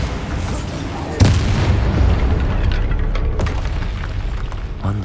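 A Bombarda spell explodes in Hogwarts Legacy with a sharp boom about a second in, followed by a continuous loud rumble and crackle of combat effects that carry through to the end.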